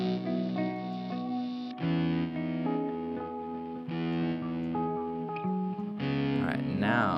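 A distorted electric guitar runs through a clean amp setting, playing sustained, buzzing chords that change every second or two, loud and close with a slight effects wash.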